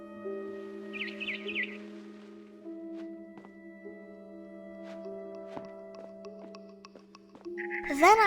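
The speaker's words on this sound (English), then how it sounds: "Then I heard chirping outside my window." A barn swallow chirps in the video game What Remains of Edith Finch: a quick run of bright repeated tweets early on, then another burst near the end, set against a steady tonal game ambience with a voice present.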